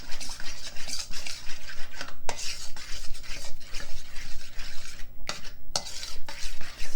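Matzo cake batter with applesauce is stirred in a bowl, giving a close, rhythmic swishing and scraping of a utensil in repeated strokes, with occasional soft clinks.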